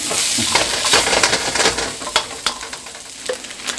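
Spam browns in a pan over medium heat, giving a steady close sizzle with scraping stirs and light clinks from the utensil, with no one talking.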